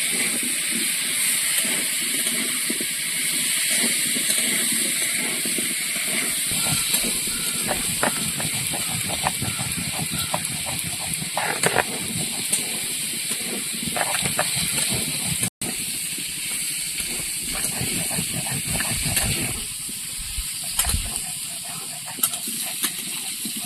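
Potatoes frying in a pan over a clay village stove, a steady sizzling hiss with crackling pops and faint clinks running throughout, close and fairly loud, with no talk.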